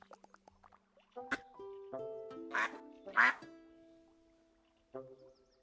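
Several duck quacks in a building game, a few short bursts scattered among other game chimes and effects, close and moderately loud with no voice over them.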